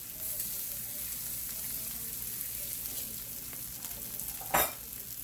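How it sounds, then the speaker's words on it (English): About a dozen meatballs fry in a pan with an even, moderate sizzle, and one brief sharp clatter near the end. "the meatballs are in the pan"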